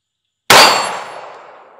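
A single pistol round from a Smith and Wesson Bodyguard 2.0 rings off a steel plate rack: a sharp, loud metallic clang that decays over more than a second, with no talk.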